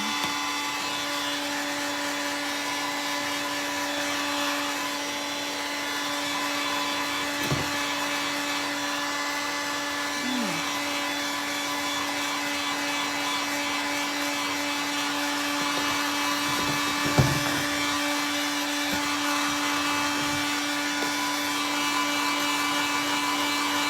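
A heat tool drying chalk paint on an outlet switch cover runs as a steady, loud electric whine with a constant tonal hum, a few faint knocks and shifts along the way, and no voices.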